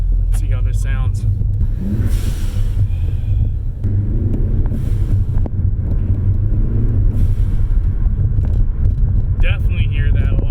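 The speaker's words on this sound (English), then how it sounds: "You hear a lot more of the turbo suction" Low, steady engine rumble and a faint whooshing intake suction from a Ford Focus ST with a modified turbo air intake, heard from inside the cruising car while someone talks over it.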